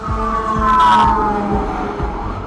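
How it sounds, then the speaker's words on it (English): A passing fire truck siren wails and sweeps down in pitch over loud road rumble and engine noise, with no talking. "fire truck hauling ass"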